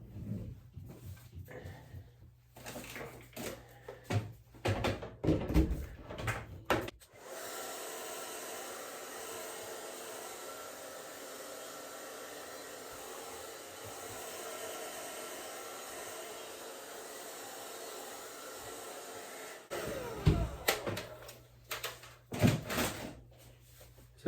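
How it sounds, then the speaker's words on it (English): A blow dryer runs on hair in a barbershop, a steady loud whoosh for about twelve seconds, framed before and after by brief handling clatter and clicks. "so I might just hit this with a blow dryer again"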